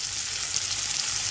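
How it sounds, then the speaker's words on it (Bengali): Soybeans with turmeric and salt frying in a pan, giving a steady, dense hissing sizzle that stays close and even throughout with no talking. "এটাকে ভালো করে ভেজে নেব।"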